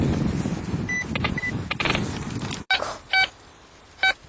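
Metal detector beeping with short electronic signal tones over scraping and handling noise, a few brief tones spaced apart, close and clear.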